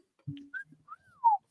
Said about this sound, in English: He wolf whistled at you.